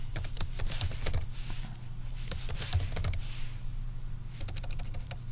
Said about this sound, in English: I just typed this up quick here